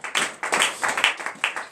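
Several sharp, rhythmic hand claps from worshippers during a morning church prayer service in Benin, close and brief, each clap distinct rather than blending into a wash.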